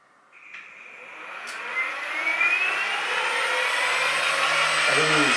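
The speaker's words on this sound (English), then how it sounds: "Can you hear the fan?" The cooling fan of a 1500W mid-drive e-bike motor spins up, a rising whine and whoosh building steadily louder and then holding as a close, continuous roar.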